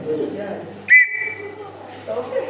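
A sharp, steady whistle blast lasting about a second cuts through background chatter, followed by more voices.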